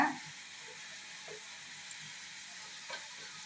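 Steady soft sizzling hiss of ghee heating in a pressure cooker, with faint stirring clinks now and then and no talking.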